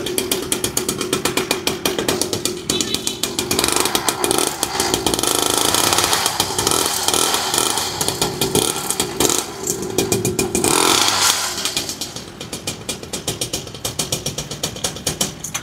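A 49cc pocket bike's small two-stroke engine runs nearby, a loud buzzing, rattling idle that revs up in the middle before dropping back to a choppy putter.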